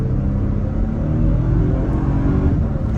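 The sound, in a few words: 2022 Toyota Tundra Limited accelerating, turbo boost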